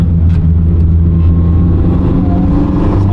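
Abarth car engine running steadily on a wet race track during a rainy trackday, with a loud, continuous low hum and slight revving from inside the car, with no talk over it.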